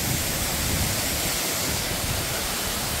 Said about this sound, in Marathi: हा आहे आपल्या कोकणातील एक प्रसिद्ध असा धबधबा आहे, सवतकडा